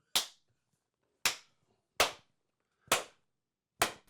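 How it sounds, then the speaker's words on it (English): Five sharp hand claps made to sync a recording, spaced roughly one second apart, each crisp and close with a quick decay, alone with no talking between them. "We got to do the clappy claps."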